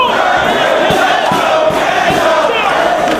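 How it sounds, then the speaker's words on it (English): A professional wrestling crowd roars in support of the tag team wrestlers, a dense, loud, continuous wall of cheering and shouting that fills the arena with no break. "Crowd voicing their support for their chosen wrestlers."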